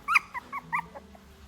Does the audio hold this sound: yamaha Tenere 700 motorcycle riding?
no